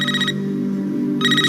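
A telephone ringing in a vintage movie trailer scene, a loud electronic ring tone heard in short bursts with a brief pause between them, close and clear over a low background hum.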